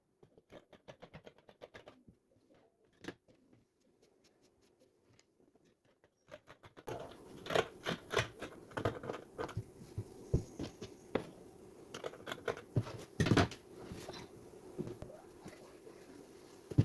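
Scissors cut dress fabric for a girls' high-low frock, a series of soft, irregular snips and fabric rustles, sparse and faint at first, then denser and louder with small clicks and handling noises close by.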